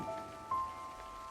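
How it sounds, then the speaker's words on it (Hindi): Raindrops fall on a rainy night in a brief, soft patter with faint musical tones beneath it. "सिर्फ पानी की बूंदों की आवाज गूंज रही थी।"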